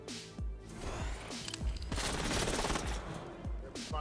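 Enemy gunfire in a Fortnite No Build match rattles in steady repeated shots with booming low thuds, mid-distance and continuous through the clip, with no talk over it.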